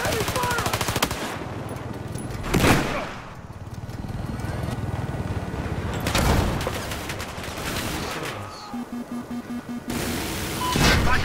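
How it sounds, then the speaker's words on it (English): Rapid machine-gun bursts and scattered gunshots fill a Battlefield 4 firefight on the Flood Zone map, loud and nearly continuous, with a few sharper blasts standing out. "I'm taking heavy fire!"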